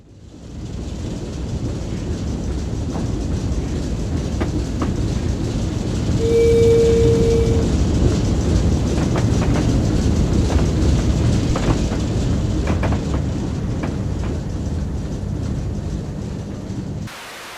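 Class 08 diesel shunting locomotive running in a train simulator game, a continuous low rumbling engine drone with rail clanks and clicks, swelling slightly midway, steady and fairly loud with no talking.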